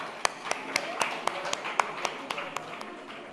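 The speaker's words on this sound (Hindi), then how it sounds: "सर के लिए जोरदार तालियां।" Audience applause at an astrology gathering comes as a thin, steady run of single sharp claps, fairly close and moderate in loudness, with a voice speaking underneath.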